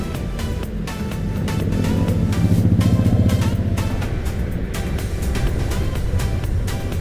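Steady rumble of motorcycles and road traffic passing on a busy mountain road toward Puncak near Cipayung, Indonesia, engines droning continuously with a swelling pass in the middle and no talking.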